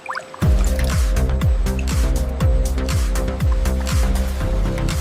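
Steady hissing water spray rinses recycled protective helmets in a final shower at a helmet recycling factory, with a repeating machine whine that falls in pitch every second or so running loudly underneath.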